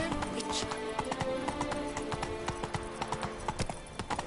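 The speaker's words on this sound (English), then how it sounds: "Giddy up. That's it, Roach." Hooves of a horse clip-clop at a steady gallop in The Witcher 3 video game, with music and talk layered over the rhythmic hoofbeats throughout.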